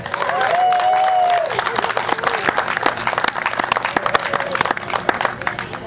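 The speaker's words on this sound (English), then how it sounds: "Give these kids one more round of applause" An audience at a festival children's costume contest claps in a round of applause, steady crowd clapping with a few whoops, while someone talks over it near the start.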